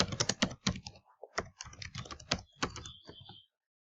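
Code is typed for a PHP ecommerce project as a rapid, close run of crisp computer keyboard clicks with brief pauses. The typing stops abruptly into silence.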